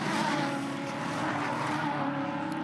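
V8 ute race cars roar around the Winton circuit, a continuous loud blare of engine note and rumble, steady and close, with no voices.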